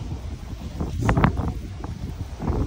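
Steady wind buffeting the microphone outdoors in rainy, cold, stormy weather in Taiwan, a low continuous rumble with gusty swells throughout, no clear voices.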